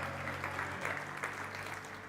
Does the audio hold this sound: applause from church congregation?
yes